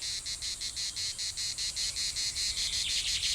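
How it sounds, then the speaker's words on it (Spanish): Cicadas (Cicada orni) sing in a pine forest at about 1,200 metres in the Pinar de Balsaín, Guadarrama, as a loud, steady buzzing made of rapid regular pulses, close and continuous, with no voices. "Las cigarras, la chicharra, la cicada orni, el sonido del calor"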